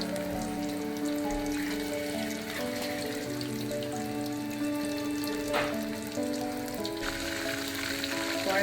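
Leatherjacket fish fry in oil in a pan over low to medium heat, giving a steady, close, dense sizzle and crackle that never lets up, with a few brief louder pops.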